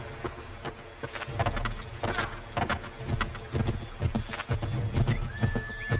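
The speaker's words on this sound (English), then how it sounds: "Get back on the horse, Connor." Horse hooves pound in a fast, repeated rhythm with a whinny in Assassin's Creed III Remastered, set against a busy, continuous background of game sound.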